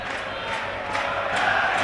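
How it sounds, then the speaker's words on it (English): At a York City versus Woking National League football match, fans in the south stand make a steady roar of crowd noise that swells slightly toward the end, heard from a distance. "Listen to the noise coming from the south stand"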